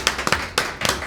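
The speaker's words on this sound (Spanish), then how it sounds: "¡Aplauso!" Studio audience applause greeting a comedian on a Spanish-language show, a few sharp bursts of clapping in quick irregular clusters, close and fairly loud.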